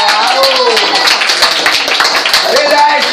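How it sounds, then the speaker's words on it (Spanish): A group of people applaud at a birthday celebration with dense, brisk clapping close by, while voices cheer and talk over it. "Vamos a darle un aplauso a ella."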